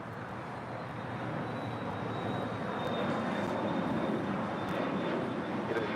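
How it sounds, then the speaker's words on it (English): A United Airlines Boeing 757-300 arriving at LAX from Denver, its steady jet-engine roar holding loud and even throughout, with a faint high whine running across it. "And arriving here on the south side, United Airlines Flight 1093, coming in from Denver, Colorado, a 757-300."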